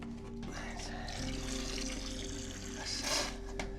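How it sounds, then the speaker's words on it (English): Liquid pours steadily into a container at close range, a soft continuous trickle and gurgle running for several seconds at low volume. "Could you pour that in there for me?"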